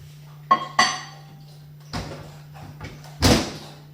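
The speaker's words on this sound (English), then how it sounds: "you can add your mug into the microwave." A microwave door clicks open and a mug is set inside while preparing a breakfast sandwich, giving a few sharp clunks and clinks over a steady electrical hum, then a louder thump as the door shuts.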